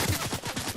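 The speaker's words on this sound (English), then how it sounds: "Someone's shooting at Mike." Rapid bursts of gunfire in the video game Fortnite crackle in a quick, steady rhythm, loud and continuous across a brief stretch with no talking.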